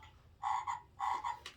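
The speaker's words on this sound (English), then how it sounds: "press the frog button. We will hear what sound frog makes." A World of Eric Carle Around the Farm sound book button plays a recorded frog croak: two short bursts of paired, raspy croaks, fairly clear and close, with a little click at the end.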